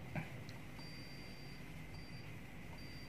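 A digital multimeter's continuity buzzer sounds on shorted pins while a dead TV's circuit board is tested. Three faint, thin, high-pitched beeps of uneven length sound over a steady background hum.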